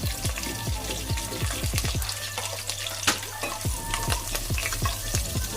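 Urad dal, raisins and curry leaves frying in hot oil for a vegetable pulao, a close, continuous crackling sizzle dense with quick popping spatters.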